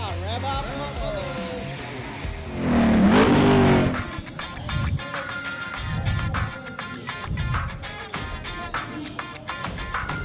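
A 1966 Volkswagen race car at a motor racing event, its engine revving and surging in bursts amid crowd noise, with someone talking over it throughout.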